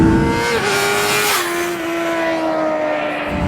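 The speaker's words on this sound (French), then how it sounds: "On coupe franchement les gaz et on passe ces rapports." A Honda motorcycle engine runs hard, then the throttle is cut sharply for clutchless upshifts, with two distinct drops in engine pitch before it settles into a steady drone.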